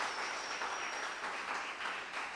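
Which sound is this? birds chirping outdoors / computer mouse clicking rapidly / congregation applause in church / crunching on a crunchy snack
congregation applause in church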